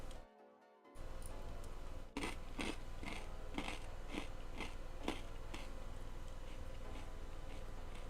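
Crunchy snacks being chewed close up, a series of sharp, regular crunching bites standing out above steady background noise, with no talking.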